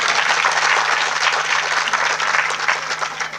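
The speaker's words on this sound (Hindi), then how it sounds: "माताओं के सम्मान में एक बार जोरदार तालियां बजाइए" An audience at a Hindu devotional katha discourse gives loud, sustained applause in honour of mothers, a dense, steady wash of many hands clapping that fills the whole stretch without a break.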